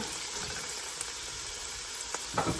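Ingredients stirred together in a hot pan as they fry, a steady close sizzle with a few scraping stirs near the end.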